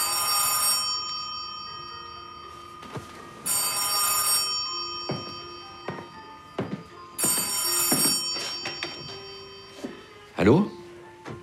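Indoor telephone ringing in repeated bursts of an electric bell, each ring a bright rattling trill separated by short pauses, fairly close, with background movement between rings.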